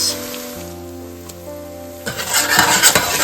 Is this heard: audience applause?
no